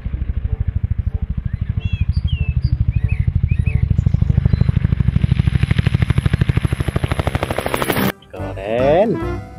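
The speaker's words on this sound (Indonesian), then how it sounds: "Ada juga helikopter." A helicopter flies close by, its rotor beating in a steady, loud rhythmic chop for about eight seconds before cutting off, with a brief voice afterward.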